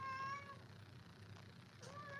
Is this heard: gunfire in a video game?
no